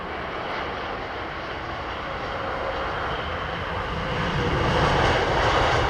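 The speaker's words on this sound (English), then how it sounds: "What an absolutely beautiful approach and landing." An airliner descends on approach and lands at London Heathrow Airport in fog, its broad engine roar steady and close, swelling slightly louder toward the end with no talk.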